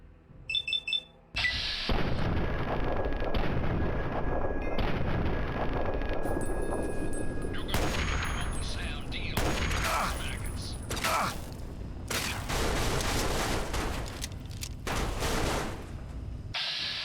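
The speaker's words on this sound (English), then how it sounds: "I heard the distinctive sound of a Gatling laser" A Gatling laser fires in the video game Fallout 3, with dense, loud bursts, beeps and mechanical whirring over a continuous game soundscape, and no talking.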